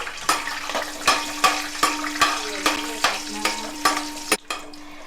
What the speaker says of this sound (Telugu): ముందు కొద్దిగా జీడిపప్పు కూడా వేపుకుందాము